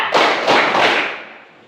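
A classroom of students claps together in a counted rhythm, several loud, close bursts of hands striking in quick succession before the sound trails off.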